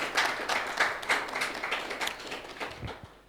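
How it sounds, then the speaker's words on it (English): Applause from the audience at a 2022 Mobile Industry Transparency Initiative report launch: a steady patter of hand clapping that fades toward the end, heard from a moderate distance. "I think he deserves a round of applause."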